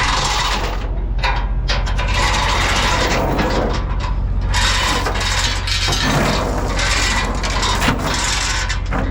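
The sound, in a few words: chain binder ratcheting while tying down a load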